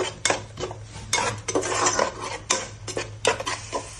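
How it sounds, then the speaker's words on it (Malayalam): Ground masala paste being stirred in a pan for a fish dish, busy metallic scraping and clatter of a spoon against the pan in quick repeated strokes, close and loud, with no voices. "ഇത് നല്ലോണം വയറ്റുക ആ പോകുന്ന വരെ നല്ല വൃത്തിയിൽ ഇളക്കിയെടുക്കുക"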